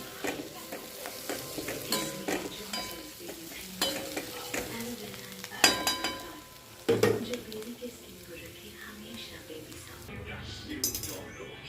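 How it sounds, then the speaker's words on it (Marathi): A cucumber vegetable dish sizzling in a pan as fresh coriander is stirred in, with repeated spoon scrapes and clinks against the pan over a soft sizzle, and a voice talking intermittently. "ह्याच्यामध्ये टाकणार आहे फ्रेश कापलेला कोथिंबीर त्याला हलवून घ्यायचं"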